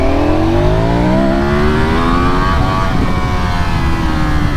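A 2025 Ducati Panigale V4 motorcycle engine revving while riding, loud and close, its pitch rising steadily in a long pull before easing off, with constant wind roar underneath.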